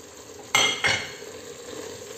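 Meat, vegetables and tomato being stirred in a cooking pot, two loud scraping strokes of a utensil against the pot with a faint sizzle underneath, no talking.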